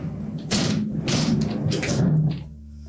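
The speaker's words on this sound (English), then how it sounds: "Just open and close the door." An LG refrigerator door is swung open and shut during an evaporator motor repair, giving soft thumps and rustling bumps of the door and seal, close and clear with no talking.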